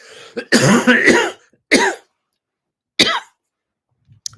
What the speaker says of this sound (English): Excuse me, I'm going to cough again.